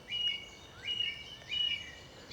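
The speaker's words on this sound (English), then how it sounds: "And you've got blackbird over in the other woodland there." A blackbird sings from woodland a short way off on a morning country walk, giving three separate bright, fluty phrases with quiet pauses between them and no voices.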